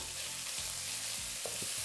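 Beef, about a third of the batch, frying in a pan for Vietnamese rice paper rolls, giving a steady close sizzle with a few scrapes and stirs of the spatula, no voices.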